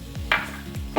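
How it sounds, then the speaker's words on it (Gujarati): Semolina and sugar being stirred in a pan for amla jelly, a few scraping strokes with soft bursts of scraping noise, close and fairly quiet, with no talking. "હવે એને સતત હલાવ્યા કરશું."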